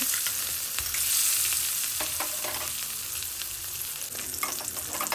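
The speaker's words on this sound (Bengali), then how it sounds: "কেটে নেওয়ার পর আমি একটা কড়াতে তেল গরম করে মাছগুলোকে 2 পিঠ ভালো মতো লাল লাল করে ভেজে নেব।" Fish frying in hot oil in a wok: a steady, close crackling sizzle with scattered pops that holds for about five seconds, with no voices.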